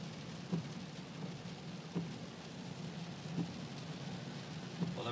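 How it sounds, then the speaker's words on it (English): Heavy rain pours from an active storm cell in East Yorkshire, a dense continuous hiss with a few dull thumps scattered through it, heard at a constant moderate level without talking. "The rain's certainly coming down"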